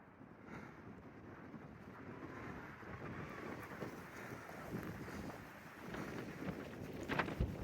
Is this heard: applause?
no